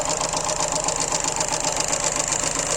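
A 1993 Fiat Cinquecento 0.9 i.e. engine idles close up, a steady, even mechanical chatter with a rapid regular pulse and no talking over it.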